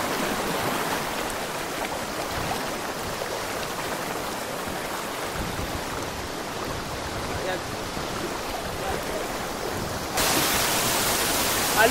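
RRB Falls, a waterfall on a river in Abra, roars as a steady broadband wash of falling water, close and loud, swelling brighter near the end.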